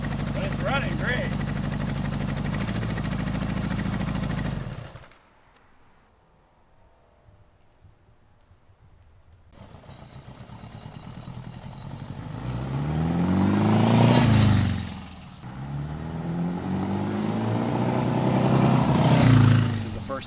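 A 1975 Honda Goldwing 1000cc motorcycle engine runs and revs through two rising, swelling pulls, moving from a low rumble to a louder whine, after a rough idle broken by a quiet gap.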